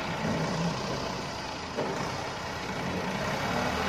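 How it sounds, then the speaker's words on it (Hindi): A tractor pulling a trolley on a hot village farm rumbles steadily, its engine drone and rolling noise continuous and fairly loud, with no talk. "अब ये दोबारा फिर ये ट्राली लेके ट्रैक्टर उधर जाएगा"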